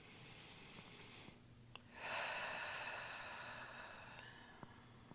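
A slow, deep breath during Shavasana at the end of a morning yoga session, one long, soft, airy exhale, faint and close, in a quiet room.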